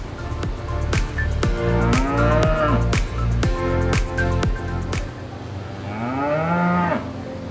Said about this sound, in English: How grueling is it to raise a Hanwoo cow?